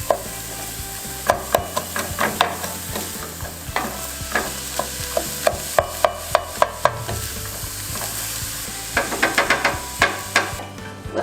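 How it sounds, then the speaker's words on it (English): Onions and garlic sauté in a pan, a steady close sizzle broken by frequent sharp clicks and scrapes of a utensil stirring against the pan, with no talking. "the onions are sauteing"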